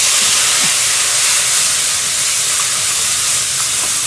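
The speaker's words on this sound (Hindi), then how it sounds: "थोड़ा सा डालूंगी मैं इनके ऊपर सोया सॉस।" Soy sauce poured over food in a hot pan gives a loud, steady sizzling hiss that fills the whole moment without pause, close and even, with no voices over it.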